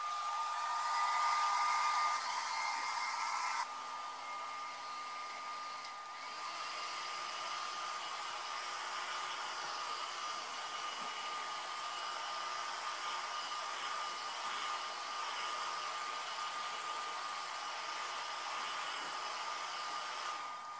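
A hair dryer blows steadily and loudly throughout, with a whining motor tone; the pitch and airflow shift slightly a few seconds in, then hold constant.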